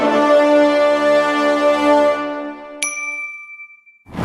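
A bright notification bell dings once, ringing out alone with a long decaying metallic tone and a second sharper ding near the end, close and clear.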